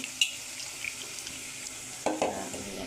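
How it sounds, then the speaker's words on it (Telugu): Tamarind juice poured into a fish curry cooking in a pan, with a soft background sizzle and a short splashing burst near the end. "చింతపండు పులుసు పోసుకున్నామండి"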